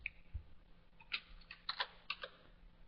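Quiet computer keyboard typing in short bursts of soft clicks while entering values into beam design software, close and faint with no voices.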